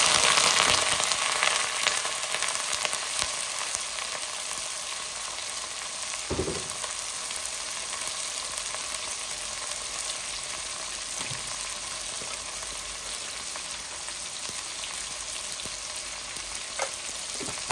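Onions sizzle steadily in hot oil with whole spices: panch phoron, cinnamon, star anise and bay leaf. The frying goes on without a break, with an occasional stir or clink of a utensil and no voices.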